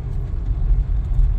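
A car engine, gas pedal pressed lightly, gives a low steady rumble that swells gently in a slight rev, heard alone and fairly close.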